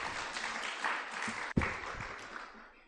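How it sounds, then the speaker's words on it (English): Audience applause at the Uganda Medical Association grand doctors conference, a dense, steady crackle of many hands filling the hall, with one sharp thump midway before the clapping thins out toward the end. "Another hand clap for Professor Ngonzi."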